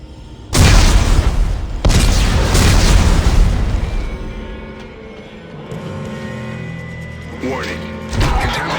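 Explosives detonate in the sci-fi game Dead Space 3, with two heavy booming blasts in quick succession and a long rumbling tail. Smaller crashes and a further burst follow, along with a spoken voice.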